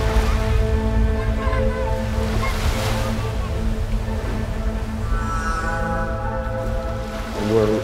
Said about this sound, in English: Another wave rushing in, taking out the windows